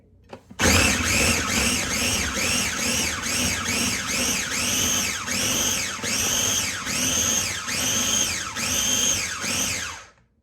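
A blender pureeing avocado and spinach into baby food, whirring loudly with a regular pulsing rise and fall as the blades churn, starting abruptly and stopping after about ten seconds.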